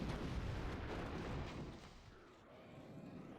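A grenade blast in The Thing: Remastered on PC, heard as a broad, rumbling roar heavy in the low end. It carries on for about three seconds, easing briefly before swelling again, with no voices over it.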